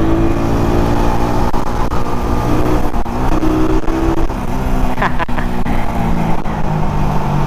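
A carbureted Suzuki Raider 150 motorcycle is ridden at speed, its engine droning loudly and steadily with shifting pitch and wind noise throughout, close and continuous.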